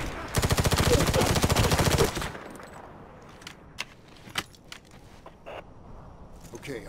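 A loud automatic gunfire burst in the video game Medal of Honor 2010 rattles rapidly for about two seconds, then gives way to faint metallic clinks and scattered small sounds.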